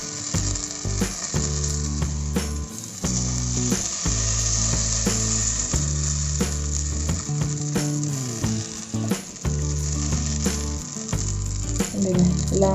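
Batter for a spicy masala kinnathappam is poured around a hot pan over a low flame and sizzles steadily, with a constant frying hiss broken by repeated scraping and clinking strokes.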